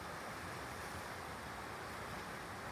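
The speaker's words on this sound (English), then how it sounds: "there's a little creek that flows under that bridge into this river" Steady rushing water from a small creek flowing under a highway bridge into a river, a constant broadband wash that is close and unbroken for the whole stretch, with no voices.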